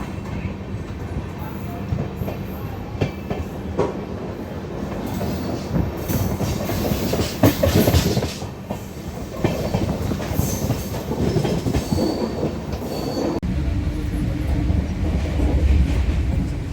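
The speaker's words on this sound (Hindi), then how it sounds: "तो पहले से हम ओवरटेक कर रहे हैं फ्रेट ट्रेन को, आप देख सकते हैं।" A passenger train on its first LHB run from Ajmer to Chandigarh rumbles along the rails while overtaking a double-stack container freight train, with steady clickety-clack, rushing noise and occasional wheel squeal throughout.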